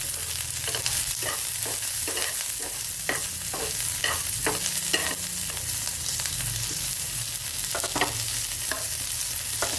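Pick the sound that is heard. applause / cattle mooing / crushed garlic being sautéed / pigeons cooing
crushed garlic being sautéed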